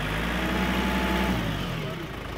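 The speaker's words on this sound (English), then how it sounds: "So your tractor is now starting." A farm tractor engine runs in neutral nearby with a loud, steady rumble that eases slightly toward the end, with a voice faintly present.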